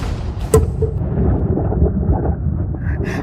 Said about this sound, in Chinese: 看来爆炸奏效了